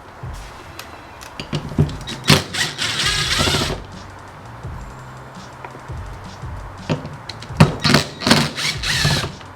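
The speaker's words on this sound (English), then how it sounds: "you got 5 10 mil bolts. Just go ahead and remove them." Five 10 mm bolts being removed from a Toyota with a power tool, heard as several short, loud buzzing bursts separated by pauses and light clatter, close by with no talking.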